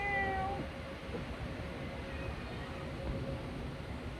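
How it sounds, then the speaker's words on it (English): A cat on a neighbor's balcony meows a few times at some distance, drawn-out cries over a steady low rumble of background noise. "just hanging out on the fucking neighbor's balcony meowing"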